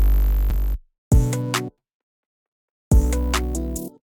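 CTM 808 bass from a new jazz beat plays as three deep, sustained booming notes separated by silent gaps, loud and alone with no talk.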